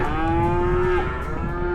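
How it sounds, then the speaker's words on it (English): Cattle low steadily in stockyard pens at a historic cattle auction, one long sustained moo with rich harmonics sounding close and loud, no talking. "if you look down at these cattle that are sitting here right now"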